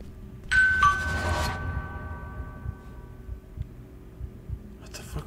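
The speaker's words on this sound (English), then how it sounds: "Did someone ring the doorbell?" A doorbell rings in a video game: a clear two-tone electronic chime near the start, with a lingering tone fading into a low, quiet hum.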